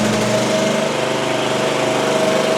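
Small engine of a Chinese mini skid steer running steadily at idle, close and loud, with a constant droning hum and a faint whine, and no talking.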